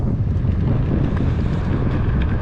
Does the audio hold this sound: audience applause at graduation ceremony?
no